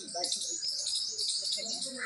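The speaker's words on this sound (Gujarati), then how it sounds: "કેવા પક્ષીઓ મસ્ત મજાના કલરવ કરે છે." Small birds chirp in a continuous high, twittering chorus outdoors near the Kasturba Gandhi memorial in Porbandar, steady and moderately loud, with faint low voices or murmurs underneath.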